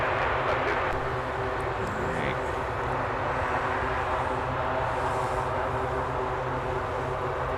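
Turboprop propellers on an aircraft at a snowy MSP airport give a steady, even drone with a faint tonal hum, continuous and moderately loud from start to finish.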